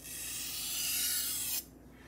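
A knife edge is drawn across an 800 grit sharpening stone in one close, steady rasping stroke of about a second and a half, ending abruptly.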